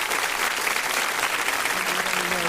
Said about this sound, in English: we just wanted to congratulate her and give her a round of applause